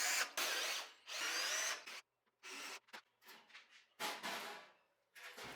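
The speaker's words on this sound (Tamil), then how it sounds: "அதை நம்ம செல்ஃப் ஸ்க்ரூ போட்டு வந்து டைட் பண்ணிடலாம்." Power screwdriver driving self-tapping screws into a cut metal sheet cover on a homemade coconut leaf cutting machine, heard as several close, loud whirring bursts of one to two seconds each, separated by short pauses.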